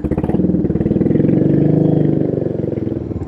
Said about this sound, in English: Listen to that pipe.